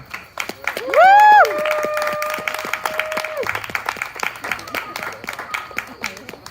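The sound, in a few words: audience applause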